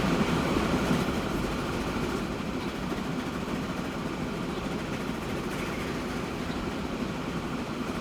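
A train runs steadily in the Transport Fever 2 video game, heard from a first-person view at the front, with a continuous rumbling roll and faint rhythmic clatter at even loudness throughout, with no talk over it.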